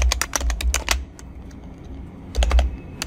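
Typing on a computer keyboard in two quick bursts of crisp clicks, a brief pause between them, close and clear with no speech.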